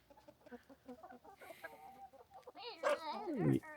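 Chickens cluck in a steady run of soft, short calls, building to a louder, drawn-out squawk near the end.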